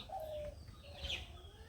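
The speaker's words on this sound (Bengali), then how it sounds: "ঘুঘু পাখি ডাকতেছে" A dove gives a soft, distant coo in the cloudy late afternoon outdoors in a village, faint and brief against low background noise.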